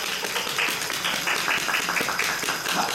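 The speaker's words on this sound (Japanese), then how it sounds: "改めて大きな拍手をお願いします" A crowd at a Kumamon photo session event applauds, a fairly faint and steady patter of many hands clapping throughout.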